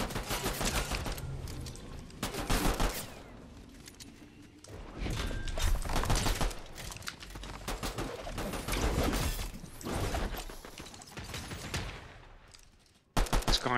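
Bursts of gunfire crack in the video game Fortnite, arriving in several loud clustered volleys separated by quieter gaps, with a final sharp burst at the end and no talk over it.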